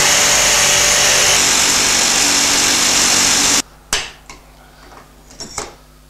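A jigsaw cutting wood, a loud continuous buzzing rasp for about three and a half seconds that stops abruptly, followed by a few faint clicks and taps.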